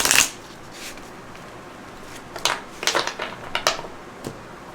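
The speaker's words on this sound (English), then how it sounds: "I'm going to shuffle the cards one more time." Tarot cards are riffled and shuffled in a few short bursts, crisp flutters separated by quiet pauses, close and fairly soft.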